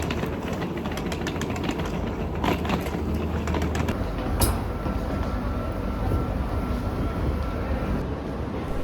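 A Marseille metro line M1 train gives a continuous, moderately loud rumble with some rhythmic rattling and a sharp squeal or clank midway.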